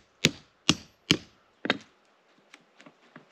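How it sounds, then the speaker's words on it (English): A metal stump vise for chainsaw sharpening is hammered into a wooden stump in the forest: four loud, sharp blows at a steady rhythm, then several fainter taps trailing off. "Just bang it into a stump."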